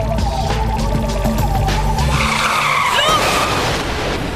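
A car brakes hard and skids, tires squealing loudly over a low engine rumble that cuts out partway, leaving a rising screech of rubber on the road, close and intense.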